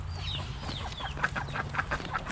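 Local village chickens cluck and chirp in quick bursts, several short calls close by over a low steady hum, no voices.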